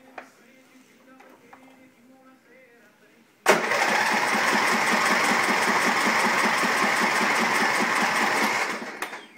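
A Troy-Bilt lawn tractor engine with a fuel delivery problem cranks and catches suddenly, then runs loud and steady with a rapid chugging rhythm for several seconds before cutting out.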